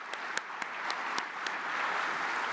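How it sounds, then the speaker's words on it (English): Audience applause for award winners at the World Geothermal Congress 2026 closing ceremony: a few sharp separate claps at first, then swelling into steady, fairly distant clapping from the hall. "please another applause for all the winners"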